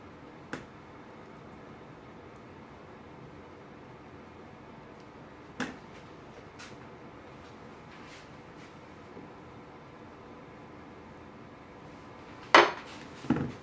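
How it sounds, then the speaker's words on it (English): A utensil scraping sticky gluten-free profiterole dough off a mixer paddle produces a few sharp, isolated clinks and knocks of metal spaced across long quiet gaps, with a small cluster of louder clatters at the end. "So I'm going to scrape the paddle off."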